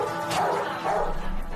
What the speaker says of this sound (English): the police have to seize the pit bull